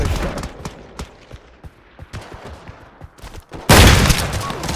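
A shotgun fires in a video game, as a scatter of sharp gunshot blasts and thumps at irregular intervals, ending in a sudden loud, sustained roaring burst.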